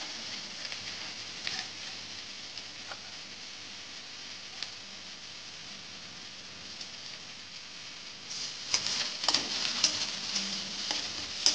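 Chopped garlic fries in a pan for Bengali chana dal, giving a low steady sizzle, then a spatula stirs it near the end with brighter crackling and scraping; no voices.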